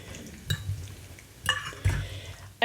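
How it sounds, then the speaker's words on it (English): A spoon scrapes and clinks against a pot while stirring gravy for shepherd's pie, in a few short, separate strokes over quiet background hiss. "Give it another little stir. Get the gravy incorporated."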